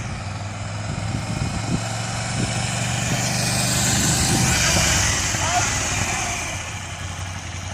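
A Ducati Scrambler motorcycle pulls away in first gear, its engine a steady low rumble that swells slightly mid-run, with wind noise and a speaking voice over it.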